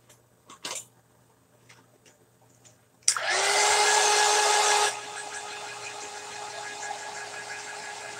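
Hair dryer switched on with a sudden loud whoosh after a few faint knocks, blowing steadily close by, then dropping to a lower setting and carrying on as a softer continuous hum.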